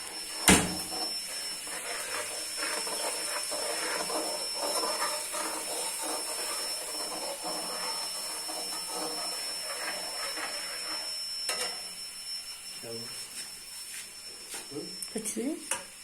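Onions fry in a pan, turning red, with a steady hiss and crackle running throughout and a few scattered clatters of utensils.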